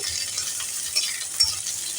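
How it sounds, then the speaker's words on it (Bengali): Finely chopped onion frying in a pan for a pumpkin-leaf bharta, a soft, even sizzle with a couple of faint utensil scrapes, close and fairly quiet. "আর সঙ্গে একটু পেঁয়াজ কেটেছি কুচি কুচি করে এটাকেও সুন্দর করে ভাজা করে"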